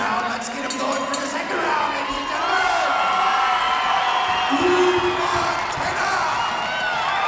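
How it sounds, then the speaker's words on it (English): Crowd at an MMA fight night roaring and cheering in a large arena, a dense sustained wash of shouts and whoops at a steady loud level, with voices talking over it. "Listen to this crowd"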